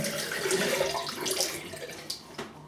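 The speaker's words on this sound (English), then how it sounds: "Rinse immediately with warm water." Warm tap water runs steadily while a face is rinsed after lathering with shaving soap, a close, continuous splashing rush with a few brief spatters near the end.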